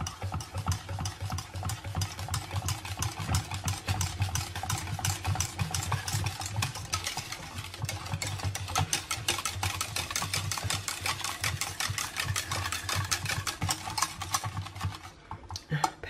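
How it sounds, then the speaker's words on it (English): A whisk stirs Greek yogurt into chocolate pudding in a bowl, making fast, steady, faint scraping and clicking. "And then just whisk it until you've got a smooth, creamy chocolate pudding."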